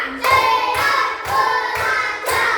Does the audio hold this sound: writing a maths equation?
no